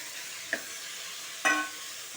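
Tomatoes hit well-sautéed onions in a pan for a homestyle chicken curry, producing a faint background sizzle broken by two short splashy bursts as the pieces drop in and are stirred, with no speech.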